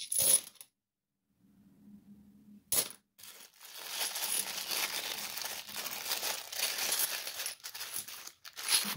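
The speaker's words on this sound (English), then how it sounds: "Throwing the coins away." £2 coins clatter and jingle as they are dropped and thrown, with a sharp metallic burst at the start, a brief quiet gap, then a long run of busy clinking and rattling.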